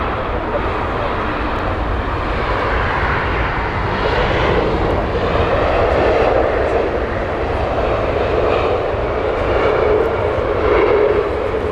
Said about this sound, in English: My sister just landed on that WestJet flight from Calgary.